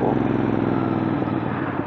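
A Ducati Monster 795 motorcycle engine idles with a steady, throaty rumble, close and loud, holding an even pulse throughout.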